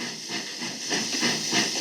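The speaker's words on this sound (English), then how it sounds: "At last, Collin's connecting train was arriving at the station." Steam hisses loudly in uneven, pulsing puffs as a steam locomotive draws slowly to a halt at a station.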